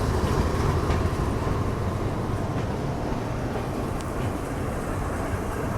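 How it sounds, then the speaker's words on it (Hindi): Train on the Shiradi Ghat in Karnataka hauled by WDG 4G locomotives, a dense continuous rumble of rolling wheels and engines, loud and close, with faint rail clatter throughout. "आगे जो है वो ब्रेकर्स लगते हैं इस ट्रेन में और मोस्टली ये WDG 4G जो है वही लगने वाले हैं।"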